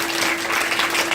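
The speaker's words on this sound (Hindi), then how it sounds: "इसलिए मैं चाहूंगी इतनी जोर से ताली बजाएं।" Audience applause at a Mahashivratri flag-hoisting event at a Brahma Kumaris centre in Delhi, a steady dense wash of clapping that fills the whole stretch without any talk.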